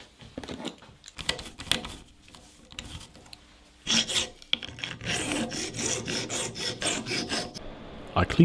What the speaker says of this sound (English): I clean everything, remove the burr